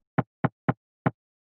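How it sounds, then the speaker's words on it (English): Four short, dry percussive clicks with a punchy attack, three evenly spaced and the fourth after a slightly longer gap, isolated in silence. "I just add this kick attack here"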